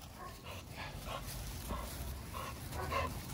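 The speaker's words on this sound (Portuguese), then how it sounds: "Se liga só nesse cachorro chato aqui" An American bully dog gives faint, repeated whimpers and short yips, spaced about half a second apart over a low background hum.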